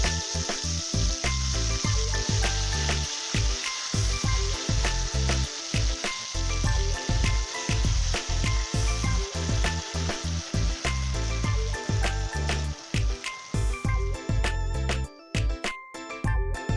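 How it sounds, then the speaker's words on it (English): Pepper frying in hot oil for Nigerian Ofada sauce (ayamase stew), a loud, continuous close sizzle with bubbling crackles and brief drops in intensity as the pan is stirred. "At this point, I'll begin frying my pepper proper."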